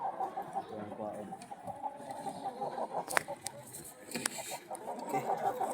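Poultry cluck softly in a coop, scattered low clucks and murmurs at a modest distance, with quiet speech in the background.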